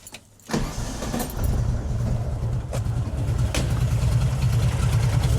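A 1968 VW Fastback's air-cooled engine cranks briefly, catches and settles into a steady, loud, slightly uneven idle with a low rumbling pulse, up close and without talk.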